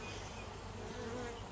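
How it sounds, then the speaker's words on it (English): A steady, close hum of bees buzzing around an open hive during an inspection, continuous and even, with no voices over it. "they're really just really calm bees"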